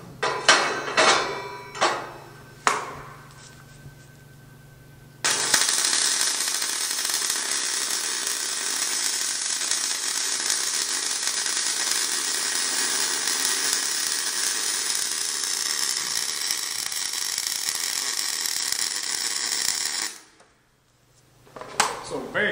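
Miller Multimatic 215 MIG welder on auto-set running 0.030 wire with 75/25 gas on 3/16-inch steel: a few handling clicks, then a loud, steady crackling arc hiss for about fifteen seconds that cuts off abruptly.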